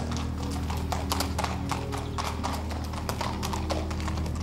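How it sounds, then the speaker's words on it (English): Horse hooves clip-clop as the horse is led in out of a storm, a steady close rhythm of hoofbeats over a continuous low rumble. "I hear him leading his horse out of the storm."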